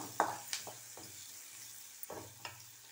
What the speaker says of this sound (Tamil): எண்ணெய் ஊற்றி கடுகு போட்டிருக்கேன்